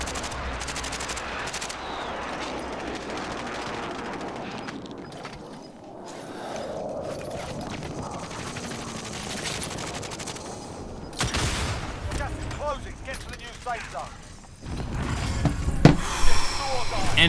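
Gunfire in Warzone rattles almost nonstop across a flat, open field at the end of a battle royale match, with sustained automatic bursts, a harder crashing stretch near the end, and no talk.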